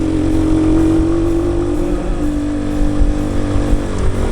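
A Keeway CR152 motorcycle rides off-road in New Zealand, its single-cylinder engine droning loud and close with a steady tone that shifts slightly as the throttle changes, alongside rumbling wind and terrain noise.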